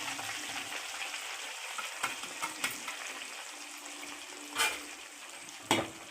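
Ground fenugreek and mustard hit hot oil for a tomato pickle, a soft steady frying hiss punctuated by several sharp scraping or clattering spoon knocks, two of them louder near the end.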